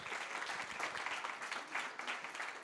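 An audience at an SEO conference in Paris gives a speaker a final round of applause, steady dense clapping in a hall with no talking over it.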